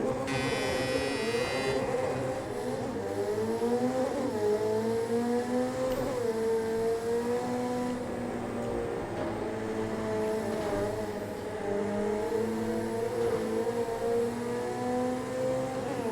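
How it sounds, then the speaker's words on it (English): Racing car engines in a video game hum and rise in pitch with steady revving, several overlapping engine tones sustained throughout at a moderate level. "Let's see if I can race without hitting any cars."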